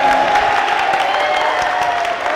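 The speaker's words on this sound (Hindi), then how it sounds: "तालियां होनी चाहिए भाई बाइक के लिए।" A game show studio audience bursts into applause and cheering, a loud, dense, brief roar of clapping with voices mixed in, steady for a couple of seconds.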